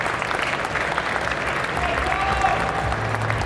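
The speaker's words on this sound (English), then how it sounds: "round of applause for our panelists" Conference audience applauding its panelists at a Bitcoin conference, steady dense clapping from a sizable crowd filling the whole stretch with faint background murmur.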